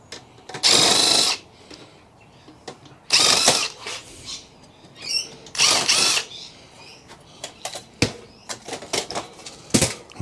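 Torx screws being unscrewed from scrapped computer hardware, heard as several loud bursts of whirring driver noise separated by pauses, followed by a run of sharp clicks and small metallic knocks close by.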